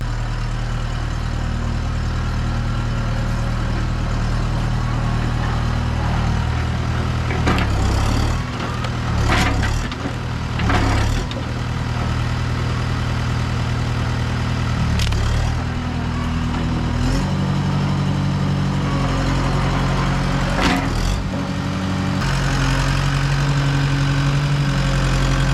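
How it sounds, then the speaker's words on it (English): A heavy engine idles steadily at close range, a deep low rumble throughout with a few brief clunks and rattles over it. "about to go get the tractor and get started tilling"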